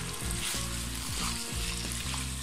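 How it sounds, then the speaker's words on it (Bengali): Thinly sliced potatoes go into hot oil and spice masala left over from frying boal fish for a curry. They set off a loud, steady crackling sizzle that continues without a break, with no talking. "বাকি মশলার মধ্যে আমি দুটো আলু আমি পাতলা পাতলা করে কেটে নিয়েছি আলুটাকে দিয়ে দিচ্ছি"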